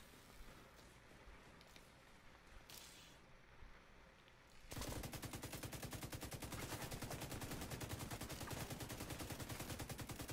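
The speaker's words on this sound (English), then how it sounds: "Dude's down here shooting at me from the back" Rapid automatic gunfire from enemies in The Division 2, bursting in loud and close after a quieter stretch and then hammering on in a dense, continuous rattle.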